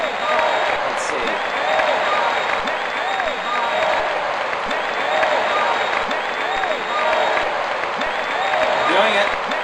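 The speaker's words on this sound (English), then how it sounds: "So please, a round of applause." A studio audience breaks into a sustained round of applause, dense clapping with some cheers, holding steady for several seconds.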